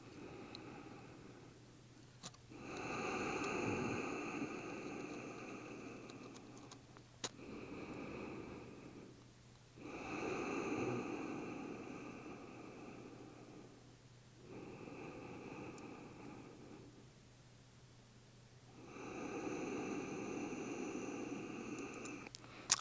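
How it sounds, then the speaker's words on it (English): Slow, deep breaths during a yoga stretch, each long inhale and exhale swelling softly and fading, repeated about four times in a calm, quiet room. "these are long, deep breaths"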